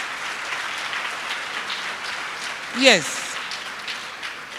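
Audience applause at a women innovators gathering, a steady wash of clapping through the whole stretch, with a single voice speaking briefly over it near the end.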